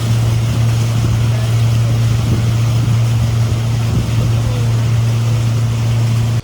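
A safari boat's motor drones on a river in Africa, with a loud, steady low engine hum and a constant rush of wind and water that ends abruptly.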